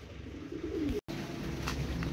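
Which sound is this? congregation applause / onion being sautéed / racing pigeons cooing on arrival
racing pigeons cooing on arrival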